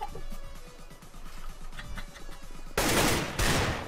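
A P90 fires in CS:GO, rapid automatic bursts rattling in a tight rhythm, then two louder, denser volleys toward the end, close and prominent with no talk.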